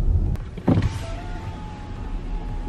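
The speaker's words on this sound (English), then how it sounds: "Why are you putting the window down?" A car's power window is lowered: a close electric motor whirs steadily for a couple of seconds inside the cabin, after a brief knock, with no talking.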